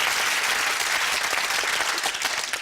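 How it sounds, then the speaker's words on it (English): A game show studio audience applauds steadily and loudly, dense clapping that fills the space throughout without letup. "A big round of applause, first of all, please, for Sally Halton."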